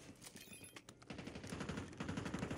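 Faint scattered shots from Warzone settle into sustained automatic bursts, with rapid rhythmic fire that sounds fairly distant and low in level.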